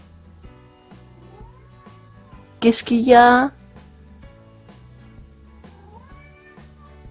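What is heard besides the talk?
kitten meowing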